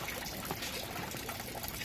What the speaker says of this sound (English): The bell siphon starts working on this bin, and it starts dripping below.